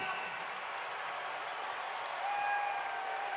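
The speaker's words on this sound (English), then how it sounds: "The crowd is getting loud." A basketball arena crowd in Cincinnati keeps up a broad, steady roar of cheering and applause at moderate distance, swelling slightly toward the end, with faint whistle tones above it.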